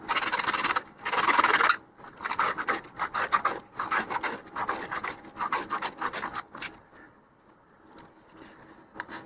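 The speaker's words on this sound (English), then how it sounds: "just run this around as I sand the inside" Sandpaper rubbed around the inside surface of a 2-inch LOC Precision Iris model rocket body tube, a steady close rasping that comes in bursts with short pauses and fades softer toward the end.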